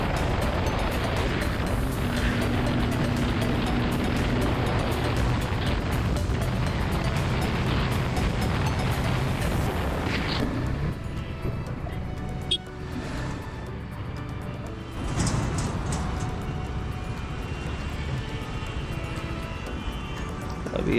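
A TVS Apache RR310 BS6 motorcycle engine roaring steadily while riding and accelerating on a road, with heavy wind rush over the whole stretch and a slight drop in intensity partway through.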